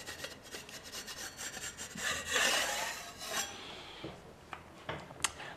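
A repaired, previously blistered wall is sanded by hand with quiet, uneven rasping strokes that swell briefly in the middle, with a few small knocks near the end.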